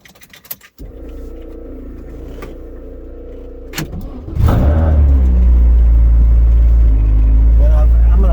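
A Saturn S-Series fitted with a rear-mounted turbo and old boost-dependent fuel regulator starts cold: a brief crank, a short idle, then a loud rev that settles into a steady, close, heavy engine drone.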